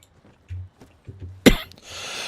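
A single sharp cough bursts out close to the mic during an Arma Reforger match, followed by a breathy hiss, after some low murmured speech earlier.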